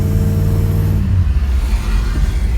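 A 1956 Ford Fairlane Tudor Victoria's engine hums loudly nearby, then shifts to a rougher, deeper surge as the car accelerates away, with no talking.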